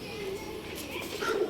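Male pet birds for sale at a Bangalore seller, soft cooing and calling notes against a steady murmur of background noise, with faint indistinct voices.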